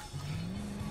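A car drives in the video game Battlefield 4, a steady close engine drone with tire noise, continuous through the short moment.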